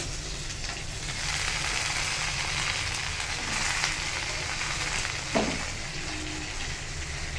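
Ingredients for coconut chutney fry in a pan with a steady, fairly soft sizzle throughout, broken by a brief clink or stir partway through, with no talk.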